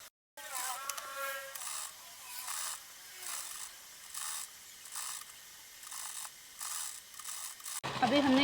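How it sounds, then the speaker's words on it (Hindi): An interlock sewing machine stitches elastic into fabric, running in repeated short bursts of rapid mechanical whirring and clatter with brief pauses between them, close and clear. "इलास्टिक पे सिलाई नहीं जाने देंगे, और ऐसे ऐसे हम इंटरलॉक पे सिलाई लगा लेंगे।"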